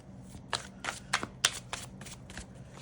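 Tarot cards being shuffled by hand during a card reading, a run of soft riffling bursts and flicks at fairly regular intervals, close and fairly quiet, with no talking.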